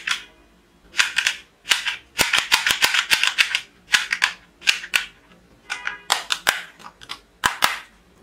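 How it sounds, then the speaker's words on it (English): A colorful toy pistol fired repeatedly, sharp close cracks in irregular bursts and rapid runs, each a bright snap with short pauses between volleys, with no voices. "Colorful toy pistol."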